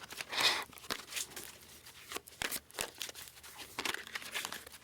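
Tarot cards being shuffled close by, a run of quick papery riffles and flutters in uneven bursts, with no voices.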